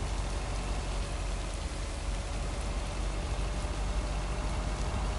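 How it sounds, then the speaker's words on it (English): Rain falling in the video game Lake, a steady, even hiss of drops with no break or swell, moderately quiet and alone without any talking. "We'll enjoy the sound of the rain"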